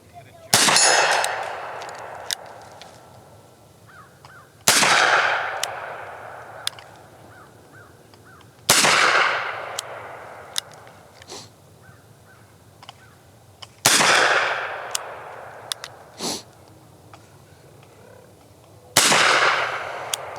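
Five sharp, loud gunshots from a .455 Webley revolver fired outdoors at a target about 20 yards away, spaced roughly every four to five seconds, each with a ringing echo that trails off.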